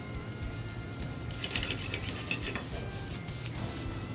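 Collard greens and garlic sizzle steadily in a hot pan, with faint scraping and stirring clicks over a continuous crackle, close and moderately loud with no talking.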